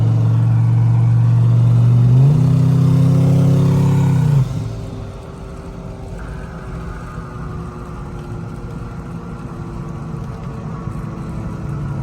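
A boosted 2003 Chevy Tahoe drives through an underground tunnel, its loud engine drone rising in pitch with a strong tonal whine for several seconds, then dropping back to a steadier, quieter cruising rumble. Nobody speaks.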